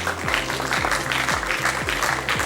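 Applause at a sub-national strategy workshop in Lagos, steady crowd clapping with a regular thumping beat running beneath it throughout.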